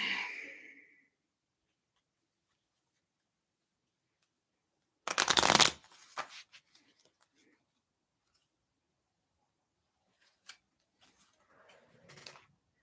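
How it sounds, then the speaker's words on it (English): Tarot cards tumble and are shuffled and handled in a quick, close, rustling burst, then a few faint scattered flicks of card handling in an otherwise quiet room. "I'm dropping cards."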